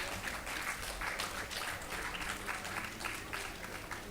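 Dense, steady applause from an audience at a cultural function at Sealdah Club, honoring the performers; many hands clapping continuously at even loudness for the whole stretch, with no speech over it.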